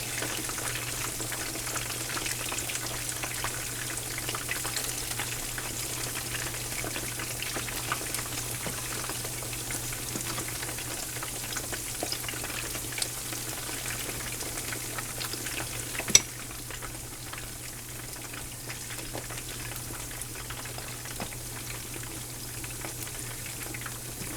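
Small fish pieces fry for po boy sandwiches, a steady, even sizzle and crackle of hot oil going on throughout with a single brief clack near the middle, no talking.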